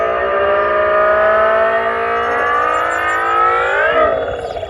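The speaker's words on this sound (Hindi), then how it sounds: "मूड साउंड को ऑन करने से इस तरीके की गंदी आवाज़ें आती हैं" An Ola S1 Pro electric scooter plays its synthetic mood sound in bolt mode: a loud, steady, siren-like whine of layered tones that slowly rises in pitch and then dips briefly near the end, with no talking.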